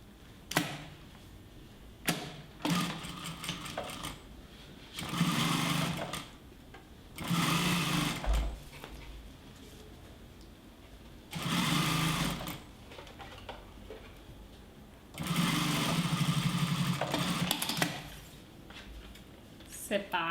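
A sewing machine stitches bias binding onto a multipurpose fabric wallet in several separate bursts of fast, whirring runs, with quiet pauses between them.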